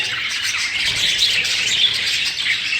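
A flock of jumbo show budgerigars in a breeding setup chirp and chatter continuously, a dense, loud mix of overlapping tweets and squawks.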